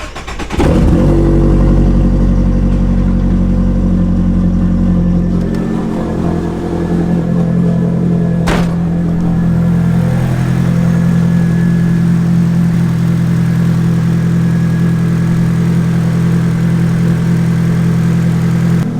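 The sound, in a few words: Nissan S13 SR20DET engine starting and idling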